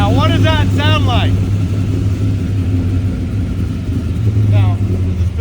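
A Pontiac Firebird with an R5 P7 V8 and NASCAR drivetrain idles with a deep, steady, loud rumble. Voices speak briefly over it at the start and again near the end.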